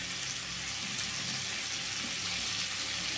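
Cauliflower pieces fry slowly in oil in a pan over a medium flame, giving a steady, dense, close sizzle that carries on without a break and with no voices.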